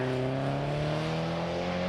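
A Porsche Cayman with a 3.4-litre mid-mounted flat-six at the Prescott hillclimb gives a loud, close, sustained engine drone that holds steady without a break.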